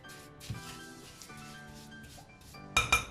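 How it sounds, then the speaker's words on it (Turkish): A whisk scrapes and clinks against a bowl while muffin batter with sugar is beaten until creamy, with soft rubbing strokes and a couple of sharper clinks near the end over quiet background music. "Şimdi bunlar krema haline gelene kadar çırpacağım."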